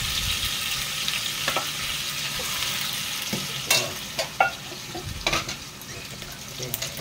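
Fish fries in a pan with a steady loud sizzle, broken by sharp scraping clatters as a utensil stirs it, with no talking.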